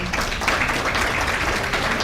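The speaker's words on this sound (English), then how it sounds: "Let's give her a round of applause." Audience applause for a district parental director at a school meeting, a steady dense wash of clapping from a crowd, fairly loud and continuous throughout with no clear breaks.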